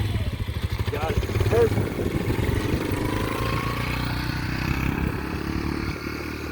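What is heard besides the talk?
dirt bike engine revving while the rider pulls away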